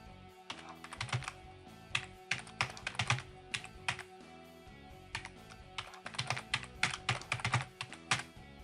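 Quiet computer keyboard typing in irregular bursts of rapid keystrokes with short pauses between, close and clear with no talking.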